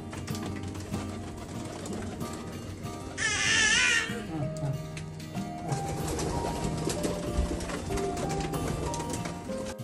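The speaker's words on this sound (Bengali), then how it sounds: "এই কবুতরগুলো অনেক সুন্দর" Pigeons cooing in a loft setting, a steady layered murmur of low coos with a brief louder flutter-like burst partway through, close and continuous with faint human voice in the background.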